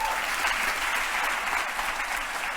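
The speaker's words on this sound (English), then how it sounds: "a big round of applause for the video producer that actually made it happen" A conference audience gives a steady round of applause, dense and even throughout.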